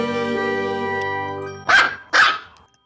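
A dog gives two sharp, loud barks close by, spaced about half a second apart, after a sustained harmonic whine or tone that fades out beforehand.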